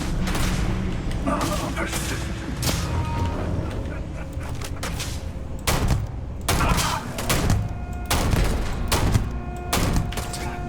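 Heavy gunfire from the space game Starfield rolls out in repeated bursts of loud booming shots, layered with background game sound and someone talking over the action.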